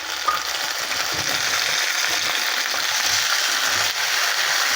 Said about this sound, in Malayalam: ചെറിയ ഉള്ളി ഈ വെളിച്ചെണ്ണയിൽ വഴറ്റിയെടുക്കണം.